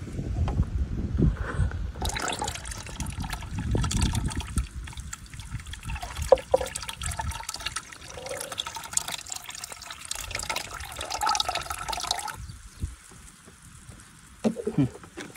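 A liquid stock solution from a sugarcane kit is mixed in a marked one-litre measuring bottle filled to 500 ml, giving intermittent trickling, dribbling and sloshing that is close and fairly quiet, with pauses between bursts.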